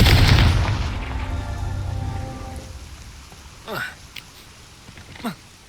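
Fiery spell explosion in Hogwarts Legacy: a loud burst with a decaying rumble, followed by two quick sharp whooshing zaps, with no talk over it.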